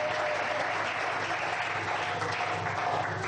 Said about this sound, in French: Est-ce qu'on peut acclamer le Seigneur très fort avec beaucoup de joie?